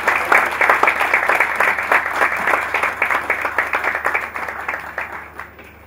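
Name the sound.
audience applause for a keynote speaker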